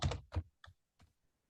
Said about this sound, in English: So let's finish typing in our text